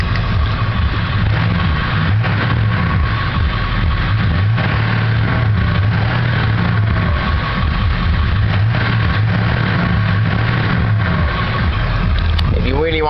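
A 2000 Ford F350 XLT with a Powerstroke turbo diesel idles close by, a steady, loud low rumble with constant mechanical clatter that holds without a break.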